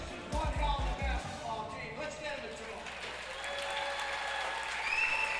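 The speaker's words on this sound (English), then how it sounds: "Jack Soliday just encouraging the crowd to give Shelby their due applause here." Applause from the crowd at a boys high school basketball district championship between Shelby and Perkins, a sustained clapping that runs the length of the clip, with a few low thumps at the start and voices mixed in.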